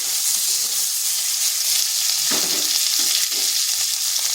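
Boiled potato pieces frying with bitter gourd in a pan, a loud, continuous hissing sizzle close up, with a brief stir of the spatula near the middle and no speech.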